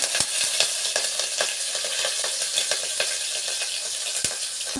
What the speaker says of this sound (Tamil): நல்லா சூடு பண்ணிட்டு சிம்ல வச்சு எல்லாத்தையும் நல்லா வதக்கலாம்